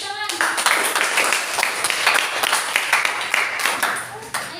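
Students clap together in a classroom during a lesson on the Prophet's traits, a dense patter of hands lasting several seconds, with voices talking over it.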